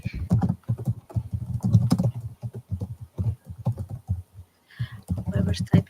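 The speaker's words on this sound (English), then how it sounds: "Whoever's typing mute." Keyboard typing clicks run through continuous talk in a quiet indoor setting, quick irregular taps audible beneath the voices for several seconds.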